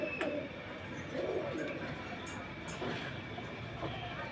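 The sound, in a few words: pigeons cooing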